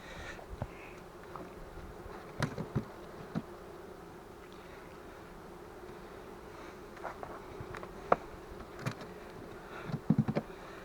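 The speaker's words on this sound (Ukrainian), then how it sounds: "Дуже багато ос, вон подивіться скільки." Many wasps hum constantly around beehive frames in a wax-moth-troubled hive, with a steady swarm drone broken by brief close buzzes and light handling knocks, no voices.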